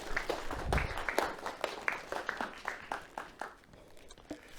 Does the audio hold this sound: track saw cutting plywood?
no